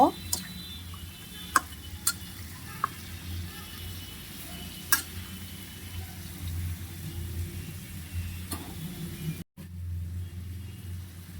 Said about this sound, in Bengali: এখন এটাকে আমি ভালো মতো নেড়ে চেড়ে দিব।